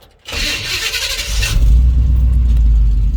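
A car engine cranks with a whirring starter, then catches and settles into a loud, deep, steady idle close by.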